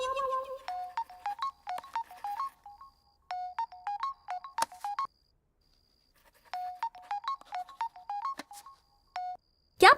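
A phone rings in a Hindi-dubbed South Indian film scene, a melodic electronic ringtone repeating in bursts with short pauses, clear and fairly close, with a brief click near the end.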